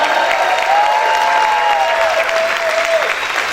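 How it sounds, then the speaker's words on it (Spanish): A church congregation applauds loudly, a dense, steady wash of many hands clapping close by, with a faint voice riding over the clapping. "Si yo puedo usted gritar y aplaudir fuerte al Señor."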